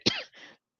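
A speaker in dry Utah air gives one sharp, close cough and then a softer follow-up cough or throat clearing, both brief and set against silence.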